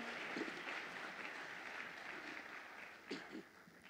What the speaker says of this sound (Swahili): Nous pouvons applaudir le Seigneur.